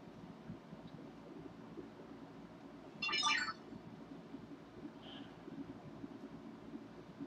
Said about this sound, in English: Apparently, everybody and their sisters decided now's a good time to try and text me.